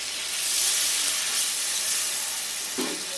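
A little water poured into a hot pan of bottle gourd curry with poppy seed, a steady bright sizzle and steamy hiss that swells briefly and then settles, close and alone.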